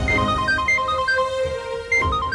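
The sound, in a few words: phone ringing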